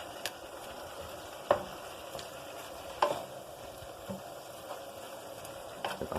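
Turkey being stirred into a thick tomato paste sauce in a pan, a soft continuous sizzle broken by a few sharp spoon clinks and taps against the pot, with no voice.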